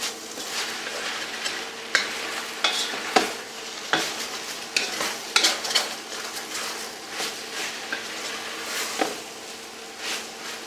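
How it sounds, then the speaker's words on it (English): A spatula scrapes and stirs across the bottom of a sizzling pan of beef and broccoli, giving repeated scraping strokes and clacks over a constant frying hiss, close up with no voices. "I'm scraping, I want to scrape the bottom of all the goodies"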